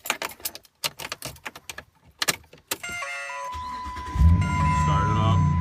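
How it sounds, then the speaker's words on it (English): A 2006 Dodge Ram truck with a TIPM fault starts up after a series of clicks and key rattles, with warning chimes going off, then the engine catches and settles into a steady low idle. "let me go ahead and start this truck here"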